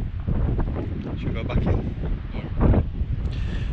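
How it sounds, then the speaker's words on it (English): Strong wind buffets the microphone in heavy, uneven gusts, roaring close up, while a person briefly speaks beneath it. "It's so windy out here, man."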